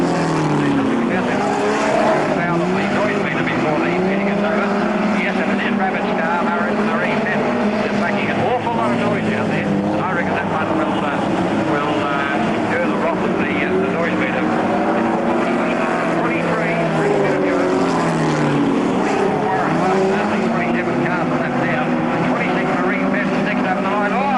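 Race car engines roar continuously in the distance at the 1991 Murray Bridge Speedway, droning and shifting in pitch, while a commentator talks over them throughout.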